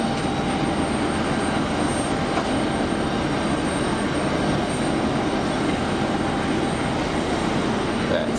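A Pegasus Airbus A320neo jet pushes back at Geneva Airport, heard as a steady, broad engine and ground roar that holds at an even level throughout, with no distinct events and no talk.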